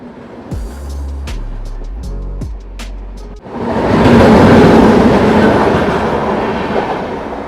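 Sanghamitra Superfast Express train hauled by a Vijayawada-based WAP7 electric locomotive: a few heavy low clanks and thumps, then a loud, close, broad rumble of rolling wheels that swells and continues without talk.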